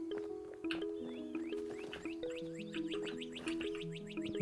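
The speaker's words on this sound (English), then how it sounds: "I can hear them. I can hear the birds." Bird chirps and tweets in a video game, scattered quick calls over a steady layer of game music.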